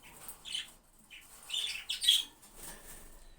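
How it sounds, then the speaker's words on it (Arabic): A pet canary gives short, bright chirps and tweets in scattered bursts, with a busier flurry midway, close by and fairly faint against a quiet room with no talking. "الطائر ديالنا هو هذا طائر الكناري."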